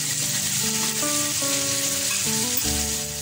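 Hilsa fish frying in mustard oil in a pan gives a steady, close sizzle throughout, with background music playing over it.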